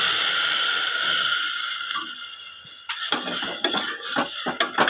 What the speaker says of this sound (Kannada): ಒಂದು ಲೋಟ ನೀರು ಹಾಕ್ತಾ ಇದ್ದೀನಿ